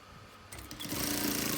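A sewing machine runs up to speed, stitching a fabric face mask, its rapid even motor whir building from quiet to steady over a short stretch.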